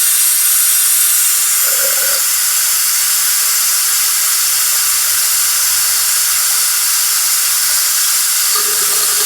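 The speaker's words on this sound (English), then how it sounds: "I will turn on my equipment and suck the excess coolant." Vacuum equipment drawing excess coolant out of a BMW 540i G30 during A/C evaporator work, a loud, steady hissing rush with faint tonal whines near the start and end.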